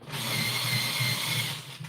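A short burst of an electric pencil sharpener sharpening a colored pencil, whirring steadily for under two seconds, close and fairly loud, with no talking.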